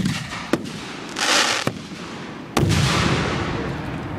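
Fireworks burst in a display, three sharp cracking booms with a rushing crackle between them and a lingering rumbling roar afterward, loud and fairly close.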